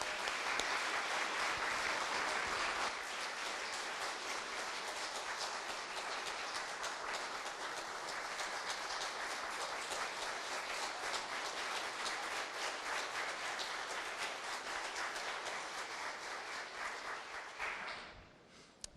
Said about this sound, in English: So I'd like you all to give him an applause.